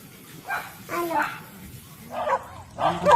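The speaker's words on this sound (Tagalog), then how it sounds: "Ang daming aso." Several dogs on a beach bark in short, moderately loud bursts spread unevenly over a few seconds, mixed with nearby voices.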